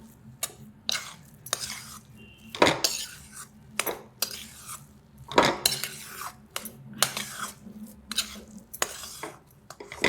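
A spoon stirs and scrapes moong dal halwa in a metal pan, giving repeated clinks and scraping strokes in an irregular rhythm, close and fairly loud with no talking.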